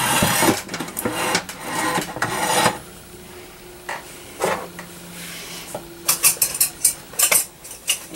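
Two metal forks pulling apart slow-cooked crock pot pork shoulder, bursts of scraping and rasping metal against the dish with clinks, dense at first, then sparser strokes with pauses, close.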